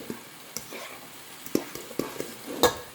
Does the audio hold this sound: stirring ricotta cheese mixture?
yes